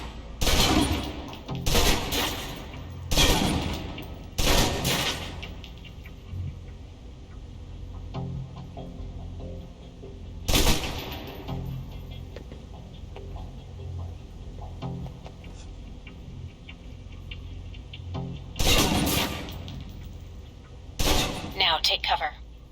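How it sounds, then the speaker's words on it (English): Submachine gun fire in Alpha Protocol, a video game: several loud, sharp bursts cluster in the first five seconds, then isolated bursts come later over a steady murmur of game ambience. "Now, let's move on to the submachine gun. Now let's empty the clip."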